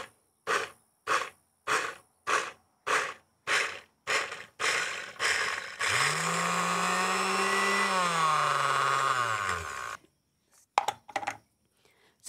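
A blender grinds peanuts into peanut butter with oil added, first in a string of about ten short loud pulses, then one long steady whirring run with a shifting drone before it cuts off, followed by a few faint knocks.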